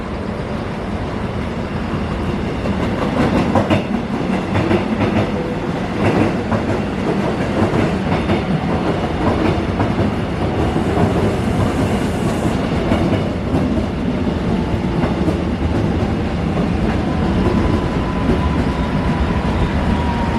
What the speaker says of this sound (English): Here comes a freight train.